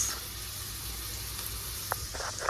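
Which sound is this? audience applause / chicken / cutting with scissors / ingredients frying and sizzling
ingredients frying and sizzling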